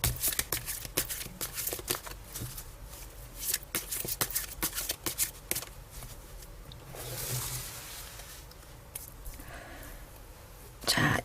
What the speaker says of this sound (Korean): 2번님들의 카드 뽑아볼게요